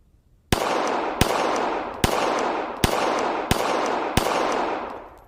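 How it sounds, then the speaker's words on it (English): Six rifle rounds fired at a target, evenly spaced sharp cracks each followed by a long ringing decay, loud and close with no talking. "and then we'll put a couple of rounds in it."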